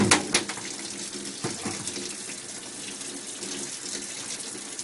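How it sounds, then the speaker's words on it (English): Running water splashes as an endoscope is wiped down with a blue sponge and soapy water, a continuous close tap-like rush with a few sharper splashes early on. "Take your blue sponge with your soapy water, wipe the entire scope down."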